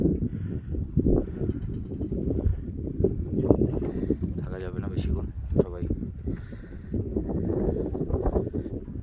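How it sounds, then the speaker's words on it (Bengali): Strong gusts of wind batter the microphone at a border camp in the hills of Tumling near Nepal, a rough roaring rumble that rises and falls as people speak close by throughout. "হাওয়া দিচ্ছে প্রচণ্ড পরিমাণে"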